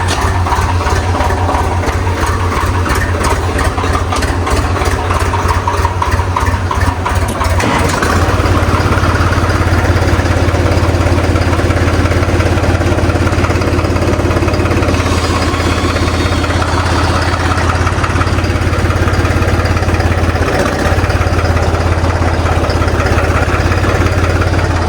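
A farm tractor engine idles close by in a steady, loud chugging drone, with a rapid pulsing knock in the first stretch before settling into an even low hum.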